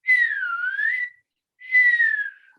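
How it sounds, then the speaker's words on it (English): Two smooth slide whistle glides, each a bent up-and-down swoop, clear and alone, demonstrated in an elementary music lesson at home. "I might have a slide whistle"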